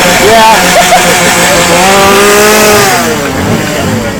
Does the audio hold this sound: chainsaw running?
yes